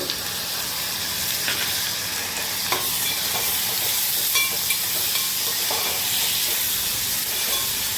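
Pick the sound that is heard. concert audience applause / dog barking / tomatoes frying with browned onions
tomatoes frying with browned onions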